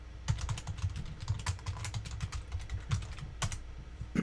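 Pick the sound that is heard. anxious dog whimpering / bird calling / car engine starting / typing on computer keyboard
typing on computer keyboard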